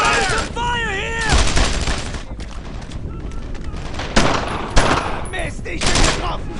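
Rapid gunfire in the World War II shooter Brothers in Arms: Earned in Blood, dense overlapping rifle and machine-gun bursts continuing throughout, with soldiers' voices shouting over the shooting.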